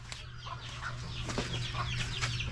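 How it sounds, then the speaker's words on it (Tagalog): Hybrid chickens cluck in a quick series of short, close calls over a low background hum, several birds overlapping with no talking. "mga manok na hybrid ni Tatang mga idol"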